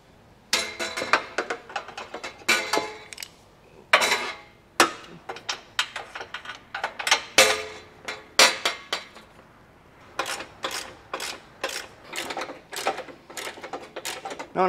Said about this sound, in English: there are going to be 18 millimeter nuts that we're going to remove, so we'll go ahead and get those taken out.